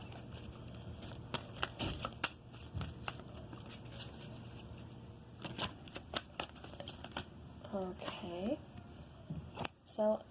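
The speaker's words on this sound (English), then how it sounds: "So I'm going to take a couple more tarot cards, kind of see if anything else comes out." Tarot cards are shuffled and drawn, giving quick papery riffles and soft flicks scattered through, with a burst of shuffling near the end, while a person talks intermittently.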